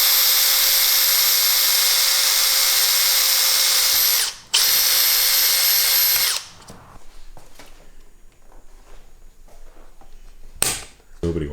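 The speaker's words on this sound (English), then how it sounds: "Next, we're going to drill into the back." A power drill whines loudly at a constant pitch drilling into a Porsche 911 GTS body, stops briefly, runs again, then cuts off, followed by quieter knocks and handling noises.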